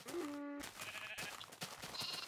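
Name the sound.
sheep bleating in Minecraft video game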